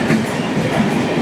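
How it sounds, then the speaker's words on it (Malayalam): An Alipurduar–Panvel Amrit Bharat Express rolls close by on an electrified line with a loud, dense rumble and rattle of wheels for a brief moment. "അലിപ്പൂർ ദ്വാർ പൻവേൽ അമൃത് ഭാരതാണിത്."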